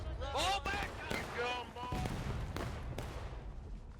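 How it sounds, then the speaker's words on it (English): Cannon and artillery fire in a Civil War video game, several heavy booming blasts in quick succession, loud and close, with shouting voices between the shots. "Our cannons are trying to kill us,"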